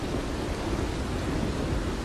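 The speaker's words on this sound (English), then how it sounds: "this would be a great opportunity for you and me to listen to the sounds of the rain" Steady rain falls in a dense, even wash of noise with a low rumble beneath it, continuous and fairly loud throughout, with no voices.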